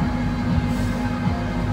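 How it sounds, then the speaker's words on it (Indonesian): Inside a Solo Ekspres passenger train standing before departure, a steady low rumbling drone fills the carriage, constant and fairly loud, with no voices or movement. "Sekarang saya sudah berada di dalam kereta api Solo Ekspres."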